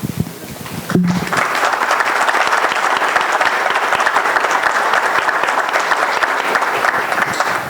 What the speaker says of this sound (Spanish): un aplauso bien merecido a ambas